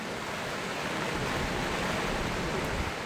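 The Lingmala waterfall near Mahabaleshwar, Satara, plunges about 500 feet in the monsoon, heard as a steady, dense roar of rushing water with no voices.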